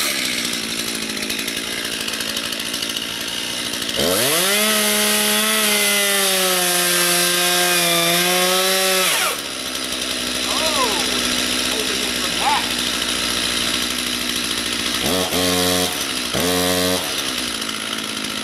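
A Stihl MS251C chainsaw cuts through wood while clearing an easement, the engine idling, then revving high and steady for several seconds through the cut, dropping back to idle, and finishing with two short revs near the end.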